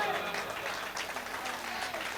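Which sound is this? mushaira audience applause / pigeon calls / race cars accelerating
mushaira audience applause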